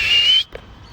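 Mojito, a pet bird, gives a single clear rising whistle call, close and fairly loud, lasting under half a second before it stops, with a faint soft chirp after.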